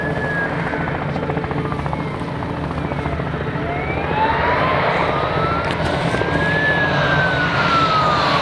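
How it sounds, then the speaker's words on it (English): An emergency vehicle siren wails outdoors, rising and falling in long sweeps over steady loud rotor-like engine noise, with no talk. "you can hear that siren too"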